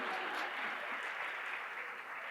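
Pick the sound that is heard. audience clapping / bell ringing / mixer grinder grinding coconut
audience clapping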